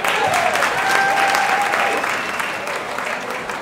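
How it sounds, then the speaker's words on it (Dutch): Applause from the audience at the Miss Travestie België 2017 finale in Oudenaarde greets a finalist, a sustained wash of clapping that swells slightly and then eases, with a few faint tones drifting over it. "applaus voor Mystic Royale."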